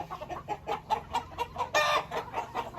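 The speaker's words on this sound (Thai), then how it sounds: "ไก่ประมาณร้อยกว่าตัวครับ" Chickens and roosters of a fighting-cock breed on a farm flock of over a hundred birds, clucking and squawking in a steady, busy chorus with one louder, harsher call near the end.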